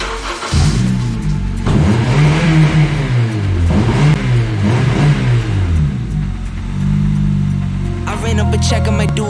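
A Honda Civic engine revs loudly and close up, rising and falling through several strong throttle sweeps with a brief drop between, ending in a lighter idle with faint clatter.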